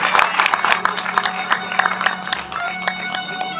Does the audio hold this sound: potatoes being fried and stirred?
no